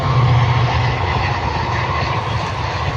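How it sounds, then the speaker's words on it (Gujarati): The Bhavnagar–Botad train rumbles by a closed railway crossing, a dense low roar with a faint rhythmic clatter, continuous throughout and with no voices. "જો ટ્રેન ભાવનગર બોટાદ ટ્રેન જાય છે"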